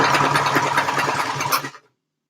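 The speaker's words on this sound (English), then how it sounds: "Look at me with my back stitching like I've been doing it all my life" Sewing machine back stitching a leotard, a fast steady mechanical whir with rapid needle ticks running loud and close for under two seconds before stopping abruptly.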